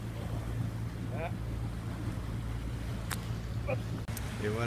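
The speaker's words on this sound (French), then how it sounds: "c'est au moteur que cette manœuvre assez magique se déroule" A sailing boat manoeuvres under engine power on the approach to Buenos Aires in poor weather, a steady low motor drone running throughout beneath wind noise and brief faint voices.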